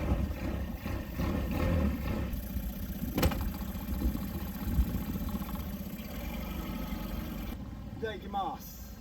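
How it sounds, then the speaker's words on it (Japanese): A small fishing boat's outboard motor with an electric starter turns over and settles into a steady idle nearby, while a person talks over it. "セルが回ってエンジンがかかる。"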